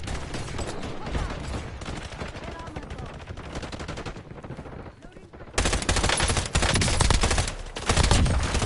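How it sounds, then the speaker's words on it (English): Full-auto burst gunfire from weapons in the video game Black Ops 6, dense rapid shots throughout, with a quieter stretch midway before louder, closer bursts resume. "the fact that this is like a full auto burst fire is pretty funky"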